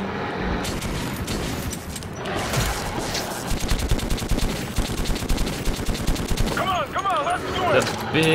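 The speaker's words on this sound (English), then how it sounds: "Big ammo clip in this is really nice for just pew pewing." Sustained automatic gunfire from a big-magazine gun in Metro 2033, a fast, dense stream of shots running steadily for several seconds, loud and close, with voices speaking over the end.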